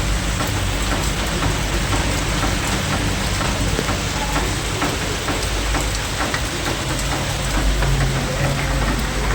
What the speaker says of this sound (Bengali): আর দেখো কি পরিমাণ ঠান্ডা হাওয়া দিচ্ছে আর বৃষ্টি পড়ছে